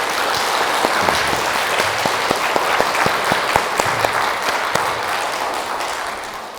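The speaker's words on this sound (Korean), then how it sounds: "하나님께 감사의 박수를 먼저 바칩니다" A church congregation at a Catholic parish in New Jersey applauds steadily, a dense wash of many hands clapping with a few sharper individual claps standing out, fairly loud and fading slightly toward the end.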